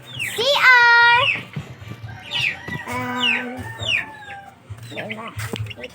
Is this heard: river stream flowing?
no